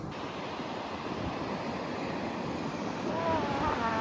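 Ocean surf rolling in on a desert coastline, a steady wash of breaking waves with wind noise over the microphone, continuous and fairly full throughout.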